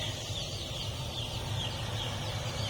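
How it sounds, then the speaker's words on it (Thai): Two-day-old chicks on a poultry farm make a dense chorus of high chirping and peeping, steady and continuous over a low background hum, with no talk. "ช่วง นี้ไก่อายุสองวันครับ"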